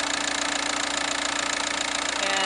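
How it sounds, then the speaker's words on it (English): A 2005 VW Passat wagon's 2-litre diesel engine idling with the engine cover off, a steady, close, rattling clatter with a regular knocking pulse and no talk. "the typical noise of a diesel engine."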